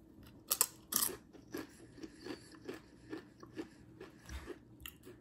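Crunching on spicy, heavily seasoned chipotle ranch chips, close up, with a few loud initial bites followed by a steady series of softer rhythmic chews, no talking.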